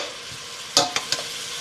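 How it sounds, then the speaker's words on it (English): Hamburger meat and chopped onion sauté quietly in a pan for vegetable beef soup, a soft low sizzle punctuated by three quick scraping clacks of a spoon or spatula near the end. "We'll start making our soup by sauteing our hamburger meat."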